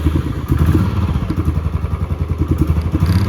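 A motorcycle engine thumps close by in a college parking area, a steady, even run of low rapid pulses with slight mechanical clatter, heard alone throughout.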